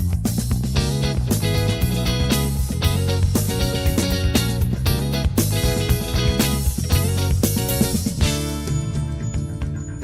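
Rhythm section from a rock track: guitars, a repeating bass line and steady timekeeping drums playing together as a dense, continuous band groove, with no voices.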